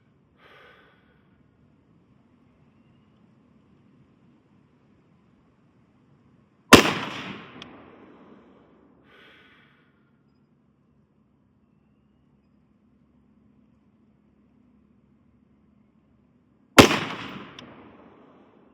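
An AR-15 rifle fires PPU ammunition at a shooting range: two sharp, loud shots about ten seconds apart, each followed by a short decaying echo, with quiet breathing and shuffling between them.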